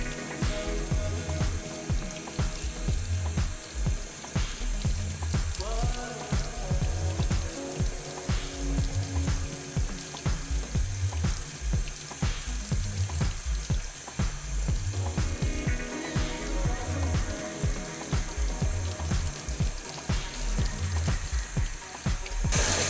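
Hot water runs steadily from a sink tap over air filters being rinsed, with a continuous splashing hiss and irregular clatter as the filters are handled under the stream.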